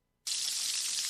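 Bacon sizzling on a grill bursts in abruptly after a moment of silence, a steady close hiss of frying fat with no talk.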